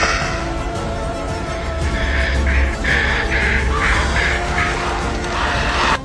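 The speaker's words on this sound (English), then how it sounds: "a crow blocked his path" Crow caws from a bird blocking the path at a church entrance, a series of harsh calls repeating roughly every half second over steady background ambience, fairly close and loud.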